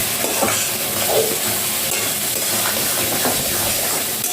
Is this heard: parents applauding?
no